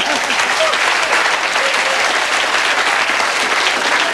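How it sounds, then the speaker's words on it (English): Steady applause from a large studio audience at the Australian Price Is Right game show fills the whole stretch, dense and continuous clapping at a constant loud level. "Give them a round of applause and here we go."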